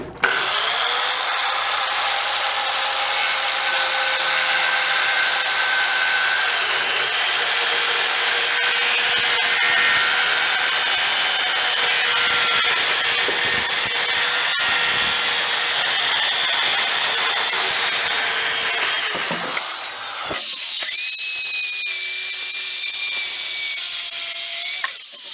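Oak flooring boards have their two ends cut off with a saw, a long continuous loud grinding and rasping that runs unbroken, pauses briefly near the end, then resumes.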